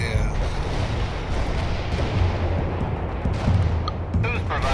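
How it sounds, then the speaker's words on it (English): Artillery barrage in the World in Conflict strategy game, a dense continuous rumble of distant booms and blasts rolling together at high volume, with faint radio voices talking over it. "Artillery barrage inbound."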